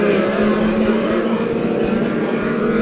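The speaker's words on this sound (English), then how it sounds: "10 years old and you're racing out here at Bakersfield Speedway." Race cars roar around Bakersfield Speedway during a heat race, a loud continuous engine drone at steady volume with no break.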